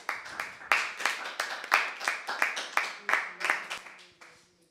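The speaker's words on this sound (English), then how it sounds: "Clapping is in order." Conference delegates at a Model United Nations session clap after a vote, a steady burst of many hands fairly close, gradually thinning out toward the end.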